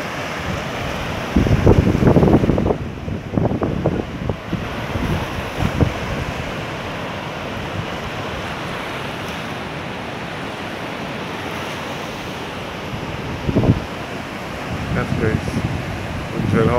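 Surf and steady wind on Drill Hall Beach along the southwest coast of Barbados, a Caribbean surfing spot, with a continuous wash of waves and wind rumble, plus louder gusts near the start and again briefly later.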